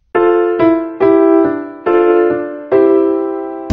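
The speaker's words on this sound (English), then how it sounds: "A piano sounds like this." Piano notes are struck one after another in a simple, evenly spaced sequence of five or six bright, close tones, each ringing and decaying before the next, with no talk over them.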